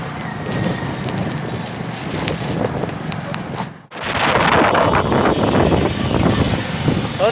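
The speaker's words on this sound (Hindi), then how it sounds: "कैसे तूफानी आंधी चल रही है।" A violent windstorm with heavy rain sweeps across an open village road, a loud, dense roar of wind and pouring rain that dips briefly for a moment and then surges back even harder.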